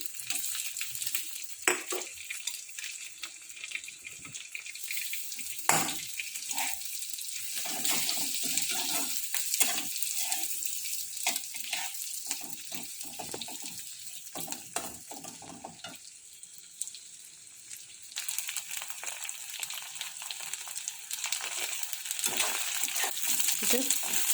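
Garlic frying in oil in a home kitchen pan, a steady sizzle under occasional stirring clatter and running tap water, with a person talking at times.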